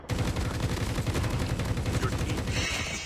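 Dense, rapid gunfire from Call of Duty Mobile battle royale on the Alcatraz map, a continuous loud rattle of shots throughout with a brief fainter patch near the end.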